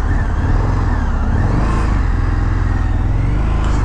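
A 2023 Indian FTR Carbon motorcycle is ridden at speed, its engine a loud, steady drone that holds for several seconds with no talking over it.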